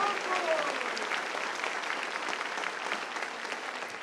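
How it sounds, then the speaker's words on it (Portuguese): A church congregation at a Quadrangular service gives a steady, dense round of applause, continuous clapping from many hands filling the room throughout. "dá uma linda salva de palmas ao Senhor"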